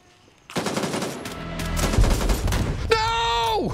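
Rapid bursts of automatic gunfire crackle through a jungle firefight in the shooter game Gray Zone Warfare, loud and sustained for several seconds, ending with a sharp shot and a sliding tonal whine.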